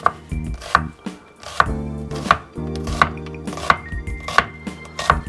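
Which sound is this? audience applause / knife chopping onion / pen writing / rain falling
knife chopping onion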